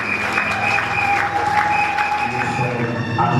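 A church congregation claps steadily through a dense, continuous round of applause at the close of a three-day seminar. The clapping is loud and sustained, with voices and a faint tonal hum underneath.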